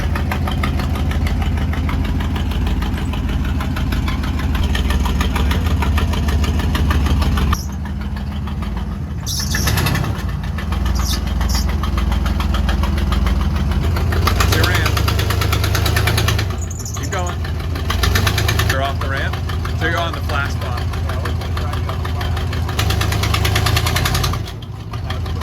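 A generator with a suspected exhaust leak runs steadily inside an Airstream trailer, a loud, continuous low engine drone with knocking undertones for the whole stretch, its level dipping briefly a few times.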